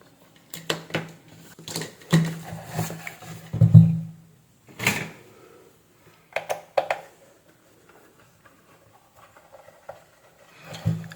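Plastic clicks, taps and rattles as the case of a 24V cordless drill battery charger is handled and opened, in scattered irregular bursts with pauses between, close and moderately loud.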